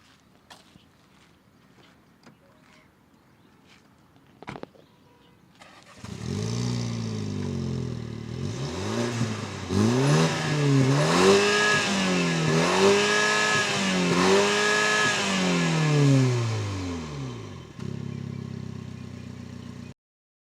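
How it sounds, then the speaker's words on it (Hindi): A Mini Cooper S engine starts after a few seconds of quiet, then its exhaust revs up and down through several rising and falling blips before settling back to a steady idle, loud and close. "मैं आपको पहले गाड़ी स्टार्ट करता हूँ, एग्जॉस्ट सुनाता हूँ"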